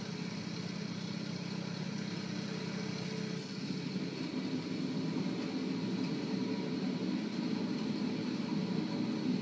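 A Focke-Wulf Fw 190 fighter in a flight video game drones steadily in flight, its engine a continuous, even hum that stays at a constant moderate level with no other sounds.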